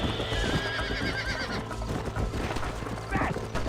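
In the Red Dead Redemption video game, a horse neighs loudly while hooves clip-clop in a steady rhythm, with a second whinny near the end, all close and prominent over faint game sounds.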